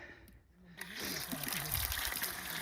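Water trickles and gurgles steadily into a bottle, a soft continuous pour growing slightly fuller, with faint outdoor background noise on the Camino trail between St Jean Pied de Port and Roncesvalles.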